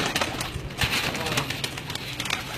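Pigeons coo close by in a loft, with soft repeated calls and occasional wing flutters over a steady background hiss, and no talk heard.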